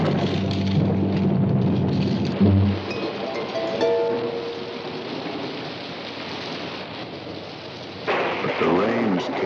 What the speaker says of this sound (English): The rains came